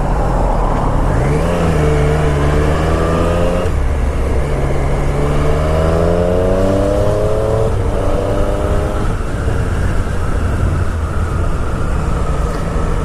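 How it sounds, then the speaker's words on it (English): Dense Tokyo road traffic surrounds a motorcycle: a loud, steady roar of engines with rising and falling revs as vehicles accelerate nearby, continuous throughout with no voices. "this is not the most ideal way to do a first ride with all this damn traffic"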